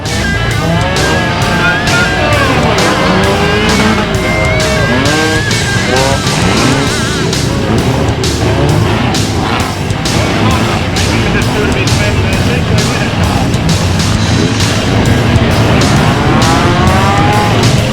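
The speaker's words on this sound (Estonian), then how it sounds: "Tegemist on siis Valga romuringiga, kus on siis autod, mis sõidavad nagu võidu ja võivad ka üksteist rammida." Old cars race and ram one another at a demolition derby in Valga, with engines roaring and revving continuously, tires squealing and occasional crunching impacts, all loud and close amid a dense crowd-like background.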